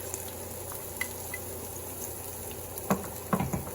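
Browned onions and freshly added garlic fry in a pan with a steady, close sizzle, broken by a few sharper crackles and stirring scrapes toward the end.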